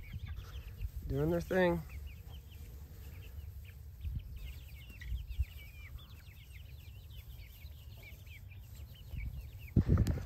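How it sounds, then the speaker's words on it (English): Backyard chickens out grazing cluck and call now and then over a steady outdoor background, with one louder rising call near the start, while a person talks briefly. "You guys been wondering how our chickens are."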